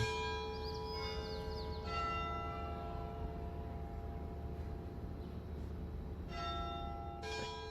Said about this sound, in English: Can you hear the bell?